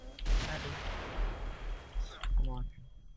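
A grenade explosion in the horror game The Evil Within, a loud low blast early on followed by a rumbling tail and a second burst, near and heavy.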